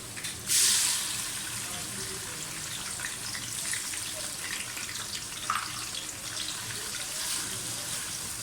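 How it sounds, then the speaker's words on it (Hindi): Sliced onions drop into hot oil for a chicken degi biryani. A bright hiss bursts out at the moment they go in, then settles into a steady, moderate frying crackle that carries on alone. "ऑयल गर्म हो गया, प्याज डाल दूँ।"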